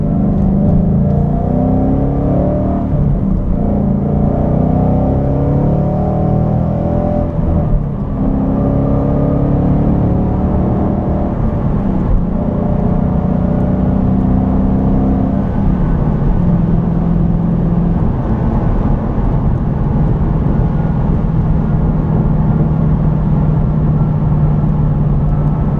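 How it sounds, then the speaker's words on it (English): A 2015 Ford Mustang GT with a Ford Racing sport exhaust pulls away from a stop and accelerates, its engine rising and falling in steady, loud pitch sweeps heard from inside the cabin, a continuous drone throughout. "give a good example of how the exhaust sounds, just going from a stop to a start."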